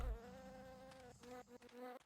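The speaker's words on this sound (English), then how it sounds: "I am starting to get really annoyed by these wasps" Wasps buzz in the video game Entropia Universe while hunting on Cyrene, a close, whining insect drone with shifting pitch that carries on steadily with brief dips.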